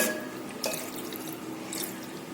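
Water poured from a tumbler onto mutton pieces with salt and turmeric in a cooking pot, a close splashing trickle with a brighter splash partway through and a later burst, no talking.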